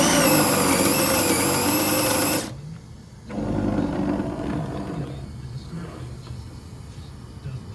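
A Team Associated DR10 RC drag car makes a no-prep drag pass, a loud, dense high-pitched motor whine for about two seconds that cuts off abruptly, followed by lower, rougher rumbling and handling noise.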